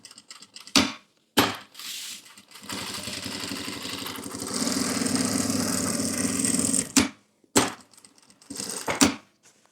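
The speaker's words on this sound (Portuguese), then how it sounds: "vou passar uma costura de segurança em volta de tudo" A sewing machine runs a continuous safety seam around the edge of a notebook bag for about four seconds, a steady rapid whir bracketed by short start-stop bursts and handling clicks.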